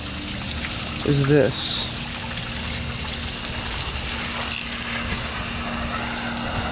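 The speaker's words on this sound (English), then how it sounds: "The water hose busted. She left it on, and the pressure busted the water hose." Water gushes steadily from a garden hose burst by pressure after being left on, flooding a backyard; a continuous broadband hiss runs throughout, with a brief voice near the start.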